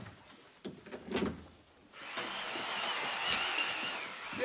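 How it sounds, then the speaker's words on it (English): A power drill starts up in a kitchen about to be torn out, a loud steady whirr that runs without a break after a few clunks and rustles, close at hand. "Constable Robinson, make sure you're not careful with that drill now."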